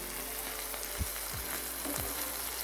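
Chicken breasts frying in a pan, giving a constant soft sizzle close by, with a few faint low thumps near the end and no speech.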